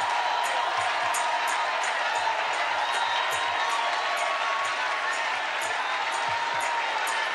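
A church congregation shouts and applauds in praise to the King of Glory, a dense, steady roar of voices and clapping that stays loud and unbroken throughout, with no single speaker standing out.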